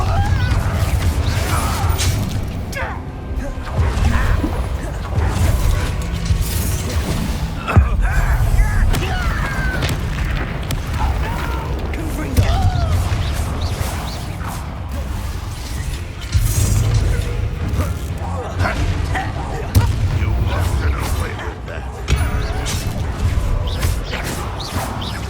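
Repeated Confringo blasting spells from Hogwarts Legacy go off in a steady run of booming thuds and crashes, loud and dense over low game music and rumbling effects.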